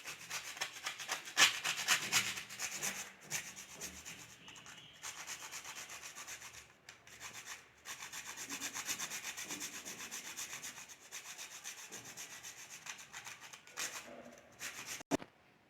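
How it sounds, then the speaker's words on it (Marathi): Quarter of a nutmeg rubbed across a grater while making Ayurvedic tea masala. A dry, scratchy grating rasps in steady strokes close by for about fifteen seconds, with no talking. "आता यात आपण 1/4 जायफळ किसून घेऊयात।"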